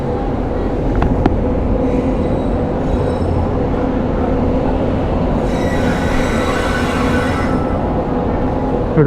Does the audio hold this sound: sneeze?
no